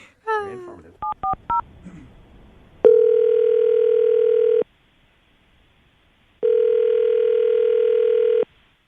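A phone call being placed: a brief cluster of keypad beeps, then two long, loud ringing tones separated by a pause, heard up close with no talk over them.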